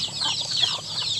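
Mother hens clucking softly among newly hatched chicks on a Filipino backyard farm, with a steady bed of chirping and short clucks close by, no talk.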